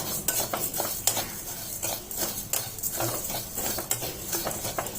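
Sugar being stirred in a hot wok for caramel, with a spoon scraping and clinking against the metal in quick irregular strokes over a light sizzle, close and alone.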